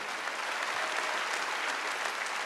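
A church congregation at a Wednesday worship service applauds together, a dense, continuous wash of many hands clapping at even loudness throughout, with no voices standing out.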